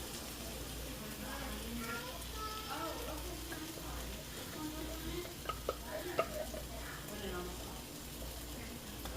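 Tomato sauce hitting a hot pan for a healthy meal-prep lasagna, heat just turned down; a continuous soft sizzle and stirring with a couple of light utensil taps, with a voice talking over it.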